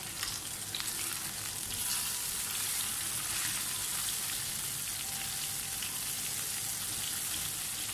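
Chicken and mixed vegetables coated in yogurt fry in a pan, a continuous close crackling sizzle with faint stirring scrapes and no voices.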